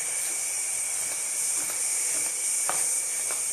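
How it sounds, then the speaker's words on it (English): An air compressor used for filling scuba tanks runs in a compressor room on Fantome Island, giving a loud, continuous hiss with a steady high whine and occasional faint clicks. "They even have a compressor room for filling up tanks and whatnot."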